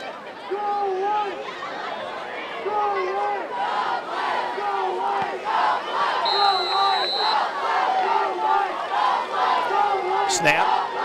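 A high school football crowd at the Lakeview Huskies versus Stevenson Titans game chants and cheers in a repeating rhythmic pattern, with chatter around it and a short whistle-like tone partway through.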